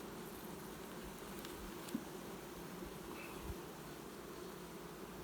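A steady, faint hum of many honeybees buzzing together at an open hive, with no voices.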